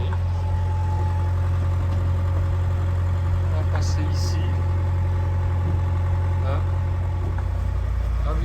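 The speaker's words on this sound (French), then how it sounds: "Navigation au moteur." A sailboat's inboard engine drones steadily and loudly while motoring along the island of Euboea in Greece on a hazy day. Someone speaks briefly over the constant, close mechanical hum.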